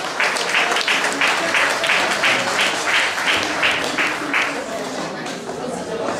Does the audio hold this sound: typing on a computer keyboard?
no